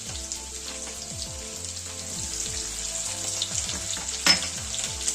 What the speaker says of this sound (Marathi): खमंग होईपर्यंत परतून घेऊया